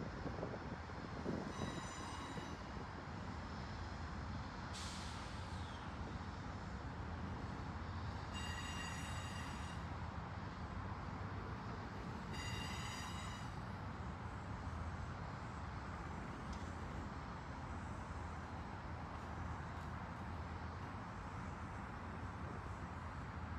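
An Amtrak Cardinal passenger train rumbles steadily past for a long stretch, wheels clattering and occasionally squealing on the rails, with a few high whistling tones.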